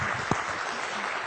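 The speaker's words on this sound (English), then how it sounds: "So they're all applauding you" An audience applauds steadily in a soft, continuous wash of clapping that sounds slightly distant, with one sharper clap near the start.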